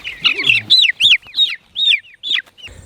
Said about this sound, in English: Look at all these chickens out.